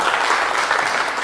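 An audience at a digital-careers event in Sousse applauds loudly and steadily, a dense, even wash of many hands clapping with no break for the whole short stretch.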